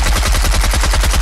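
A loud, rapid automatic burst of gunfire from the Fortnite video game hammers on in an even, machine-gun rhythm for the whole moment, with no talking.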